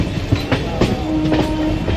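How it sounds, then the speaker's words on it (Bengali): A local train runs on its track between Krishnagar and Bhabta, heard from on board as a continuous rumble with faint rhythmic clatter of wheels over rail joints. "আমাদের ট্রেন যাচ্ছে এখন।"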